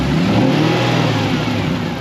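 A V8 engine in a Toyota Celica drift car holds a loud, steady, throaty rev at a drift event, close by and continuous, with no talking.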